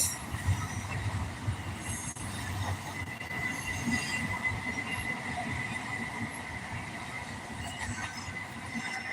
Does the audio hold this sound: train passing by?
yes